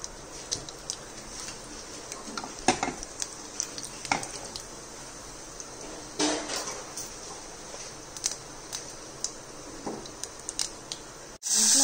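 Spices tempering in a ladleful of hot oil for bottle gourd pulusu give a steady sizzle with scattered crackles and a few clinks of a stirring spoon, close by, with no talking.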